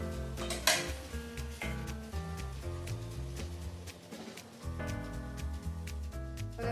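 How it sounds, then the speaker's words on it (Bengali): Mutton fries over a high flame in a pan while a utensil repeatedly clinks and scrapes against the metal as the meat is stirred, with a soft sizzle and background music. "এরপর এই মাংসটাকে হাই ফ্লেমে 5 থেকে 10 মিনিট মতো কষিয়ে নেব।"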